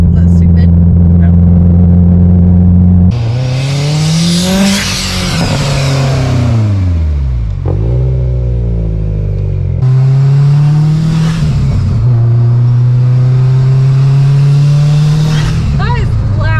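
A Mitsubishi Evo 4 with its intake removed revving loudly up close, deep steady idle rising into harsh roaring revs that sweep up and drop back several times, with voices talking over it.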